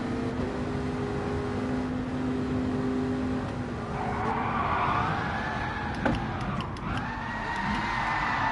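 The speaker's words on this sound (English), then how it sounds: "Oh, that was a shitload of skidding in the background." Race cars in a Gran Turismo 7 online race give a steady engine drone with whining gear tones, and a long tire squeal rises and bends midway through, continuous and fairly close.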